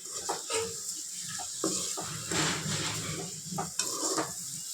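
Masala potato gravy being stirred in a pan, a soft scraping and gentle sizzle with intermittent clinks of the spoon against the pan, steady and close, with no talking.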